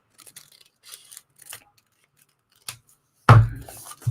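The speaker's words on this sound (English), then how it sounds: "Cutting all these tickets up is hurting my thumbs." Scissors snip paper tickets in a few sharp cuts, the last one a louder, longer crunch, with quiet gaps between the strokes.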